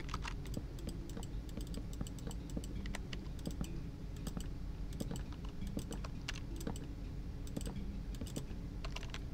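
Rapid, clattery keyboard typing with steady irregular keystrokes and occasional sharper clicks, close up and continuous, no voices.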